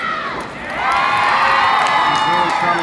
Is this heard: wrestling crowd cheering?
yes